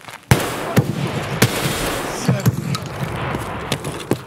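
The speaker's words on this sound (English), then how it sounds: "What the hell was he shooting?" Gunfire in the video game Escape from Tarkov during a fight with guards: sharp, close shots crack out one by one at uneven intervals, about half a dozen over a few seconds, ringing out over a steady background rumble.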